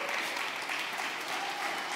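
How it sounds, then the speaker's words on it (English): A conference audience at a startup announcements event gives faint, distant applause. The steady wash of claps stays even and quiet, with no voices on top. "Round of applause, please."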